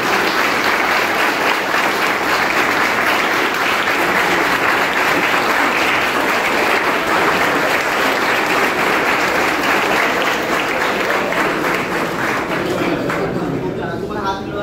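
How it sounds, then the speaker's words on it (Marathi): Loud, dense applause from a large audience at a Java project competition, cheering the winners; steady sustained clapping fills the whole stretch without pause, fading slightly at the very end. "जोरदार टाळ्या झाल्या पाहिजे."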